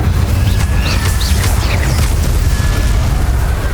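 In Hogwarts Legacy, an Incendio fire spell blasts with a heavy, roaring boom that stays loud and dense for several seconds, with faint whooshing sparkles flickering on top.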